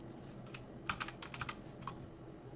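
Someone types a page name on a computer keyboard: a short, uneven burst of about a dozen crisp key clicks, close and moderately loud, over faint room noise, with no talking.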